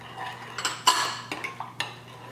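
Donut dough made with yeast, sugar and flour is stirred in a bowl, a handful of light clinks and scrapes of a utensil against the bowl, close and quiet.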